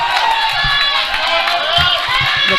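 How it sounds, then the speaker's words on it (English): Spectators at a masters powerlifting championship shout and cheer to urge on a lifter, a lively mass of overlapping voices at steady moderate loudness with a few sharper calls. "The crowd is psyching her up."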